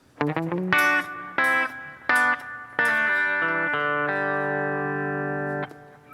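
Electric guitar playing the final part of a song's solo, a quick burst of picked notes followed by sliding, sustained phrases that ring out to a long held tone, close and loud with no talk.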